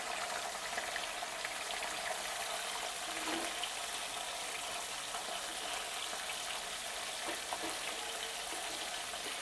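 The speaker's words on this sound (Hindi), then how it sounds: "बचे हुए ऑयल में हम अपनी फ़िश को फ्राई कर लेंगे।" Fish frying in a little leftover oil for fish korma, a steady, fairly faint bubbling sizzle that holds evenly throughout with no talking.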